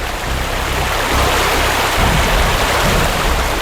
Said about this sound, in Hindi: सामने देखो, वाटरफॉल कितना सुंदर है